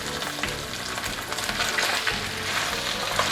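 Pork fat renders into lard in a pan over medium-low heat, giving a steady, close sizzle and bubbling with light stirring scrapes throughout and no voices.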